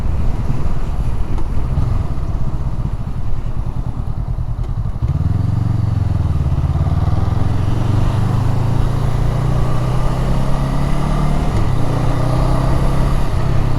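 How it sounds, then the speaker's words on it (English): A 500cc motorcycle engine is heard while riding, with a rough, close running note that steadies into a strong droning pull after a few seconds and holds it to the end. "it's definitely got a bit of pickup on it though, for a nice little 500cc bike"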